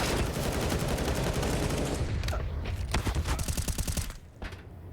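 Gunfire in a CS:GO pro match, Astralis versus Evil Geniuses, starts as a dense, continuous barrage of loud shots, then breaks into rapid automatic bursts that fade out near the end.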